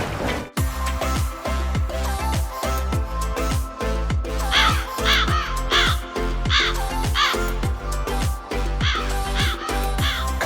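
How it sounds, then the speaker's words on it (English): A crow caws loudly and repeatedly over an upbeat backing track with a steady thumping beat, in a children's animal sounds quiz. "Caw, caw! The crow is loud and smart."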